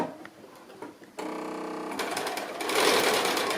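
A sewing machine stitches fabric basket handles in place about 1/8 inch from the edge, starting with a close, steady mechanical whirr after a short pause that grows louder and faster toward the end.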